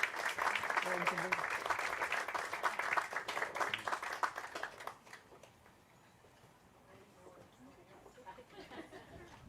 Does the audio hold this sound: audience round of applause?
yes